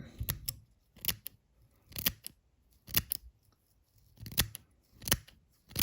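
Scissors trim chenille on a leech fly being tied, giving seven distinct snipping bursts in a steady, roughly once-per-second rhythm, close and crisp against near silence.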